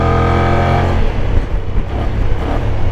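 A Kymco AK550 maxi scooter engine growls as it accelerates through city traffic, a loud close rising drone that settles into rougher engine noise.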